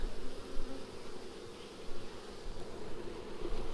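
Honeybees buzzing around an open hive during a colony split, a dense continuous hum with swelling and fading pulses as bees pass near the listener.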